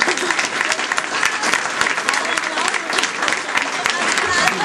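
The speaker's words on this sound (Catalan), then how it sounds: "realment un aplaudiment fort per aquesta Junta" Loud, dense applause fills the room throughout, steady clapping from a large gathered audience thanking a committee at a speech event.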